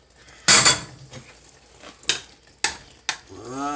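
Metal pot of noodles on a stove being checked: a few sharp clanks and scrapes of pot and utensils, the loudest near the start, then lighter knocks with a brief tonal ring at the end, close and alone.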